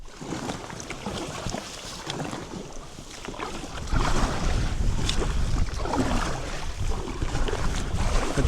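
A kayak paddled on the open sea in a strong headwind near a steep cliff island, wind rushing and water washing against the hull steadily, growing louder halfway through.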